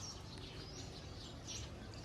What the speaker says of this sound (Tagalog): Ang daming ibon.